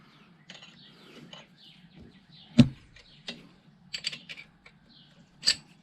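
A wrench tightens the pushrod adjustment on a Harley-Davidson Ironhead engine, giving sparse close metallic clicks and ratcheting taps, one sharper clank midway, over a low steady hum.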